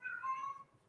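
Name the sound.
cat meowing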